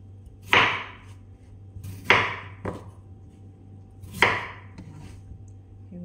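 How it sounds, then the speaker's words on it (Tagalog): A knife slicing ingredients for shepherd's pie: three sharp, separate cuts land on a board a couple of seconds apart, each with a brief crisp snap, plus a fainter extra tap, over a quiet kitchen hum. "Hiwain lang natin siya"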